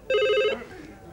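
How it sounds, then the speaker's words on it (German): A telephone gives one short, loud electronic ring burst, then falls quiet with faint room noise after it. "Herr Maurer, das Telefon"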